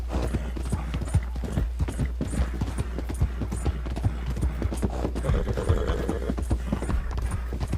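Horse hooves clip-clop steadily at a walking pace in Red Dead Redemption 2, a continuous rhythmic thudding close by over a low rumble, with a faint snort or whinny partway through.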